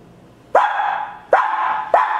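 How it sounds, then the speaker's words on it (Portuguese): A dog barks three times, loud and close, each bark sharp and spaced about a second apart. "O cachorro corre pra avisar que chegou gente"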